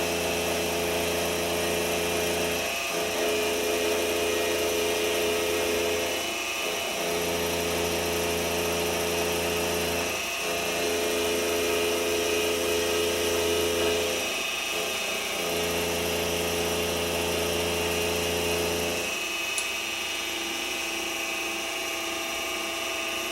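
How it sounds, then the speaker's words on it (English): A milling machine with a 5/8-inch Travers cutter machines a metal low-profile down force clamp, giving a steady loud whine with a harmonic hum, broken every few seconds by brief dips and clatters as the cut changes. "Just thought I'd show a little bit of machining of these things."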